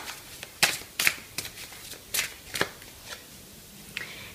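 Oracle cards shuffled by hand before an angel message card is drawn, a series of crisp riffling snaps in irregular rhythm, close and fairly soft, with quiet gaps between the bursts.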